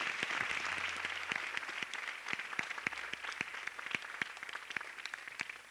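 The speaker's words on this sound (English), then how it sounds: "Clap hands for Jesus." A congregation at a Good Friday church service claps for Jesus, a fairly faint, steady wash of applause with scattered sharper claps and a low hum beneath.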